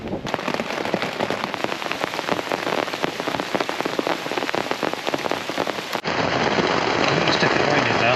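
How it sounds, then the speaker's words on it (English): Heavy rain pours onto a tent at a wild campsite, a dense, loud, continuous patter with a slight shift in tone partway through, with no voices. "Rain coming down."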